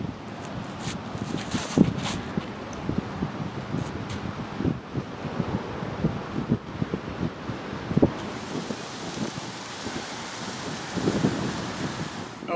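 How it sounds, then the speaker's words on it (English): Wind gusting across an open outdoor disc golf course in Estero, Florida, a steady broadband rush with louder buffeting surges on the microphone, continuous throughout with no speech. "But the wind is coming straight back towards us"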